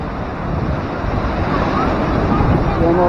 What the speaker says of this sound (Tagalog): Ganun pa rin ang alon dito.